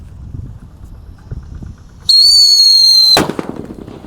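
A Whistling Thunder firecracker: a loud, steady high-pitched whistle screams for about a second, then cuts off with a sharp bang, followed by faint rumbling.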